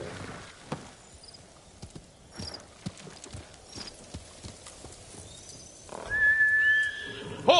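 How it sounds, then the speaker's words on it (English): In the video game Ghost of Tsushima, a horse's hooves clip-clop steadily at a walking pace, fairly soft and close, until a loud whinnying neigh breaks out near the end. "Horse!"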